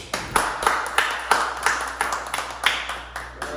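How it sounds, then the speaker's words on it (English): Scattered clapping from a small group greets a guest, with a few loud individual claps standing out over a low steady hum, and no voices on top. "everybody clap for him"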